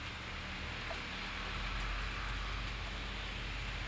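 Steady rainfall, continuing since the previous day, hisses as an even, constant wash with no voices.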